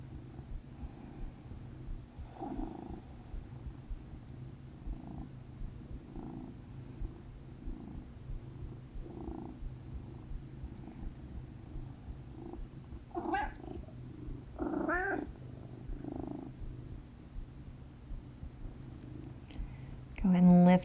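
Cat purring softly and steadily close by during a yin yoga session, a low continuous rumble under a calm instructor's voice, with a few louder rustles near the end.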